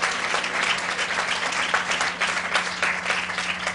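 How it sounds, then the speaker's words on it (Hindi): A church congregation in a Hindi-language service applauds to thank God, a dense, sustained burst of many hands clapping at once, filling the space steadily for several seconds. "ताली बजाकर परमेश्वर को धन्यवाद करें।"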